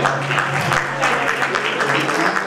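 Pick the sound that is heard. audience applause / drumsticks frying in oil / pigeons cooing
audience applause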